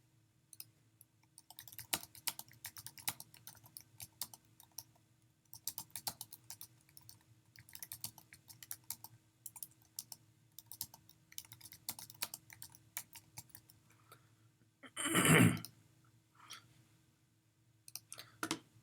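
Typing a photo caption on a computer keyboard, quiet close key clicks in irregular bursts with short pauses, and one brief louder thud near the end.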